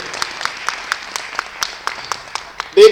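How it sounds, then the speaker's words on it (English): Audience applause at a 2015 Black History celebration hosted by a community women's centre: a steady, evenly spaced run of sharp claps, fairly sparse, with a brief voice cutting in at the very end. "Give yourself a round of applause."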